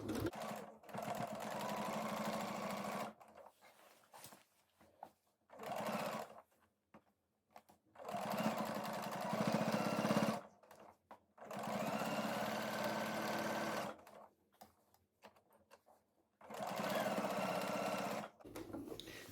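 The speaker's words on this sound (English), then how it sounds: "stitching on the other side of the waistband" A sewing machine stitches the other side of a pants waistband in several bursts, each a few seconds of close, rapid whirring separated by pauses.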